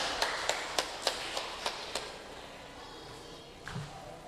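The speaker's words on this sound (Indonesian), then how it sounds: "kita beri tepuk tangan untuk nomor undi 5" A brief burst of clapping for contestant number 5 at a Bible reading contest: about seven sharp, evenly spaced claps over two seconds, moderately loud, then fading into quiet room tone.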